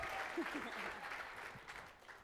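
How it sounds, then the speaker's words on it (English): Audience clapping for a volunteer who has come up on stage at a sales training seminar, a moderate, steady wash of applause throughout. "y'all give her a big round of applause for being up here"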